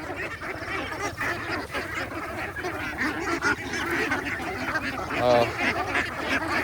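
Domestic ducks quack loudly and continuously while eating a feed mix of corn, rice bran and chopped water spinach on a rural Philippine farm, with a dense, overlapping flock close by and a brief human exclamation.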